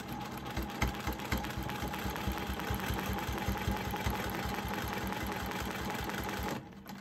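A sewing machine runs steadily while free-motion quilting a sawtooth star block, its rapid needle stitching forming a close, even mechanical whir that stops abruptly near the end.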